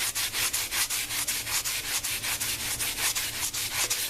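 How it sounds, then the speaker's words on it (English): Hand sanding of motorcycle parts with 150-grit sandpaper, a loud close rasping scrape repeating in quick even strokes about five times a second, with no talk. "I'm going to sand out all these pieces really good with my 150"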